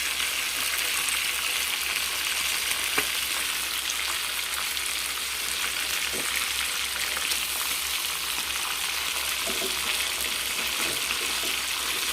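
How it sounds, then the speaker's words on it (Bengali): Pomfret fish fry in a hot pan with a steady, loud, unbroken sizzle, faint clicks of a utensil now and then under the hiss. "মাছ ভাজা হচ্ছে।"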